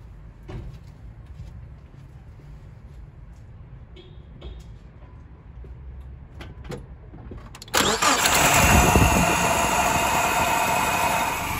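A car engine cranks and starts at about eight seconds, then settles into a loud, steady idle during a MAF sensor diagnostic; before it fires there is only low background noise and a few small knocks.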